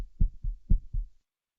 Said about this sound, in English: These are heartbeats that he synthesized, similar to that breathing work that you saw before.